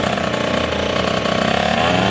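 A dirt bike engine revs hard and steady during a wheelie, a loud, close buzzing drone held for about two seconds.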